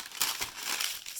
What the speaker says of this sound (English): Step 1 is to get out your parchment paper and fold it